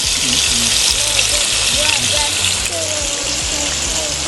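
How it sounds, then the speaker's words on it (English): Food frying in a pan in a home kitchen, a loud, steady sizzle that holds throughout, with faint background talk mixed in. "Just start frying."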